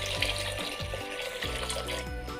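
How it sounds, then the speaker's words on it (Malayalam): Water poured into a pot of fish head curry, a soft steady gurgling stream with bubbling pulses, fairly faint and close. "കുറച്ച് വെള്ളം കൂടെ ഒഴിച്ചു കൊടുക്കാം."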